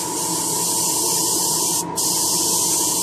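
An airbrush uses back pressure to stir paint in its cup, a loud, steady, close spraying hiss that cuts out for a moment partway through.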